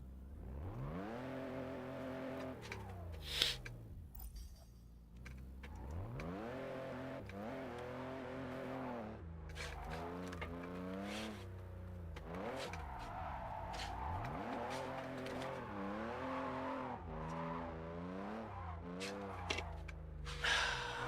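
Cars in a Japanese-car street-driving video game rev and accelerate continuously, engine pitch climbing and dropping through repeated gear changes, with occasional brief thumps and skids.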